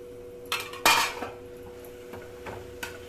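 Banana flower biryani is stirred in a pot, with a few sharp metallic scrapes and clanks of a utensil against the pot separated by quiet gaps.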